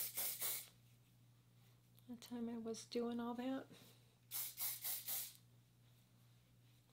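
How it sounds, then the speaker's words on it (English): Living Proof Flex hairspray sprayed onto hair in short hissing bursts, one at the start and a quick cluster of several later, close up, with someone talking between them. "This is just Living Proof Flex Hairspray."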